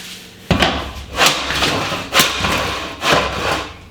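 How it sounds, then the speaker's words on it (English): A scraper cuts linoleum floor tile loose in four rough, knocking scrape strokes, each a short thud-and-rasp burst, close and fairly loud. "see, the scraper just cuts it off"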